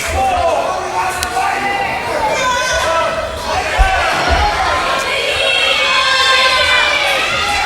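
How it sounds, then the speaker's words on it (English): A wrestling crowd at a CCW event cheers and shouts to rally behind a competitor, a dense roar of voices with scattered yells and a thump or slam, while a commentator talks over it. "Crowd trying to rally behind Vicky here."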